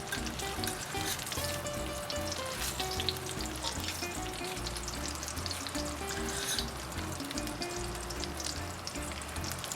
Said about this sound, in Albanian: Ti shikojnë tani janë skuqur dhe po I kthejmë.